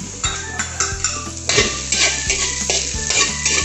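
Garlic and onion sautéing in cooking oil for a street-food chop suey: steady loud sizzling with repeated metallic scrapes and clanks of a spoon stirring against the pan, close up.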